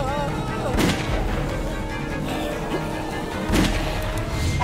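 Gunfire from The Walking Dead video game, episode 2, with two loud bursts standing out over a dense, noisy game soundtrack and some speech-like sound.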